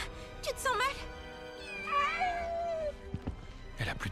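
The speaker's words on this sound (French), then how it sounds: "Bouboule, Oh, les petits chats!" Cats meow in Final Fantasy VII Rebirth, with several rising, wavering meows, one drawn-out, close and clear, under and between a French-speaking voice.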